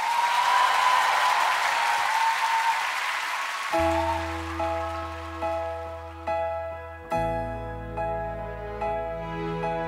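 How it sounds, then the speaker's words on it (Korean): Studio audience applause on a Korean TV music show greets a singer about to perform a ballad, a loud crowded wash that fades after a few seconds as sustained keyboard chords and notes begin. "큰 박수로 청해 듣겠습니다"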